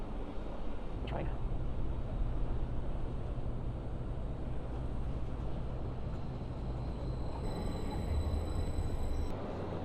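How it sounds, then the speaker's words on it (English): A double-decker IC passenger train bound for Zurich pulls into a station with a broad, steady rolling rumble and a brief high squeal near the end, heard close and continuous. "And here comes the double-decker IC train to Zurich."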